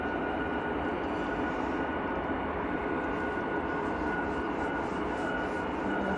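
Several jet engines warm up at Manchester Airport, producing a steady, broad roar that holds without letup throughout.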